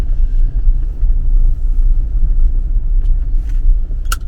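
A car engine rumbles low and heavy, close by, as the car is taken off a trailer, with a brief sharp clank near the end.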